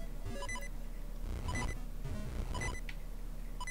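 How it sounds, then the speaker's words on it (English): Low health warning beeps from Zelda: Oracle of Seasons sound in repeated short electronic bursts over game music, moderately loud and steady with no talking. "I really wish I had more health so that beeping would stop"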